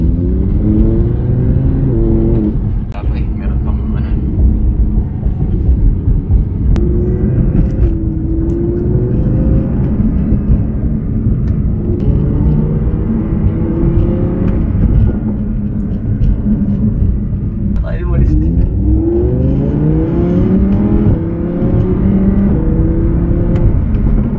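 An Audi R8 V10 Plus supercar with 610 horsepower, all-wheel drive and an 8-speed S-tronic automatic, roars steadily from inside the cabin, rising repeatedly in pitch through the gears with a loud, continuous drone and deep rumble.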